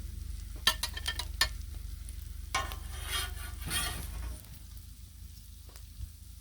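Griddle cakes scooped off a sizzling Blackstone griddle: a few sharp spatula scrapes and taps over a constant hiss of frying, which softens toward the end.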